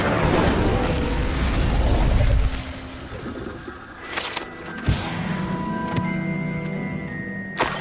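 Incendio fire spell cast in the video game Hogwarts Legacy, a loud whooshing roar of flame for about two seconds, then fading into quieter magical shimmers and a few sharp thuds.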